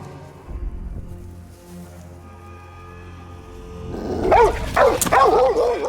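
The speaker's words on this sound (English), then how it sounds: "Don't kill the dog, Ellie, please." A dog in the video game The Last of Us barks several times in sharp, close, agitated bursts that mix with whines and yips near the end, following quieter game ambience.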